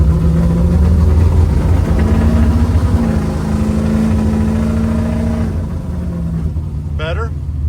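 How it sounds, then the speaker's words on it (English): An LS V8 with Hooker aftermarket mufflers rumbles loudly and close, holding a steady deep idle-like drone before easing off, with people talking over it. "For an LS, it sounds really good."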